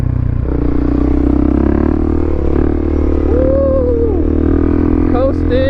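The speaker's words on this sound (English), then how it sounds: "This bike could just coast forever, dude." A Suzuki DRZ400 supermoto motorcycle coasts along with a loud, steady low engine and wind rumble, close up, with a brief rising whine near the end.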